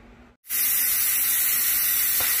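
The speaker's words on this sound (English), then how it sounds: "so the pressure is releasing and I just wanted to turn my pot so that it wouldn't get my upper cabinets there with that steam" An Instant Pot venting its pressure cooking a broccoli cheddar soup releases a sudden loud, steady hiss of steam that starts abruptly after a brief silence and keeps going close by without letup.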